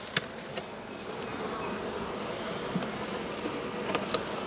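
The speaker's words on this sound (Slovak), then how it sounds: "to bolo slabúčké včelstvíčko" Honeybees from a small, weak colony drone in a steady close buzz around the hive, a continuous hum broken by a few faint clicks and taps.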